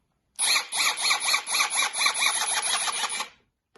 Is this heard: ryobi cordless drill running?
yes